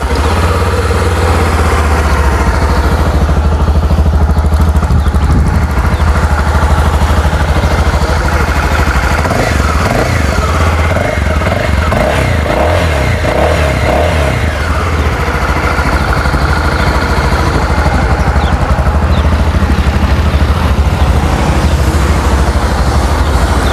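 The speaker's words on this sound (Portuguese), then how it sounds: "Deixa eu ligar aqui o motor para vocês ouvirem o ronco dela." A 2023 XRE 300 Adventure motorcycle engine idles steadily and loudly for the whole stretch, a low throbbing rumble with a slight rise in revs partway through.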